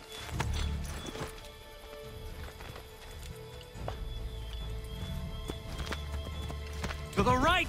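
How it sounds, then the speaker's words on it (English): A horse's hooves clip-clop in a quick galloping rhythm under voices and scattered clatter in the video game Assassin's Creed III, ending with a loud whinny close by. "Get back on the horse, Connor!"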